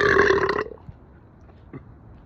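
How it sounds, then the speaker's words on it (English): A loud, close human burp rumbles for about half a second, followed by quiet room noise with a few faint small sounds. "Do not blame me because I burp."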